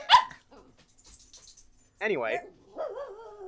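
A dog barks sharply once during a podcast recording, then a couple of short yelps or whines follow after a pause, with faint talk in between.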